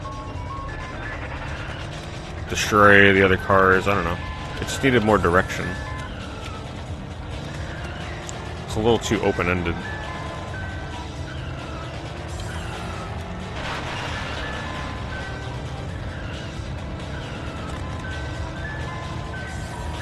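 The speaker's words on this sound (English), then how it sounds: "I'm already tired of the ice cream truck sound" A tinkly ice cream truck jingle from the video game Carmageddon 64 plays in short bursts over a steady engine drone, while a person talks over the game audio.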